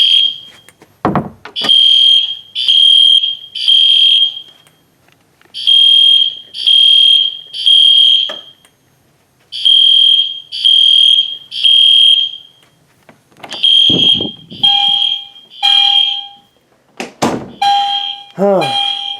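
Fire alarm horns on a shared sync circuit blare in repeated pulsing bursts that drift out of step with each other, loud and close, with brief gaps and a few short spoken bits between the blasts.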